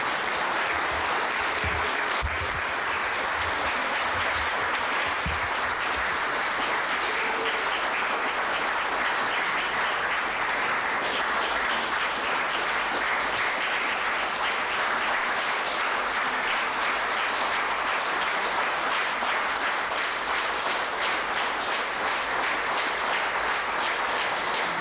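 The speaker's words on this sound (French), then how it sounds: "Vous pouvez applaudir maintenant." Sustained applause from an audience at a Legion of Honour officer investiture at the Institut du Monde Arabe, steady, dense clapping that fills the room at an even level for about twenty-five seconds, with no speech over it.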